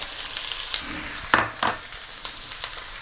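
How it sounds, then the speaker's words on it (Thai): Lemongrass, shallots and garlic stir-fried together in a pan for a spicy Isan-style dish, giving a steady close sizzle with a few sharper scraping stirs partway through, no talking. "เอารวมๆกันได้พร้อมกันผัดพร้อมกันได้ครับ ตะไคร้ หอมแดง กระเทียม"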